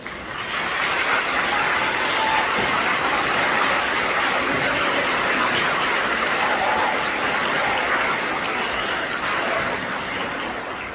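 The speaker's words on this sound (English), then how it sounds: "would you please give them a round of applause" At an 8th grade recognition ceremony the audience gives the school staff a round of applause, a dense, even wash of many hands clapping that holds steady throughout.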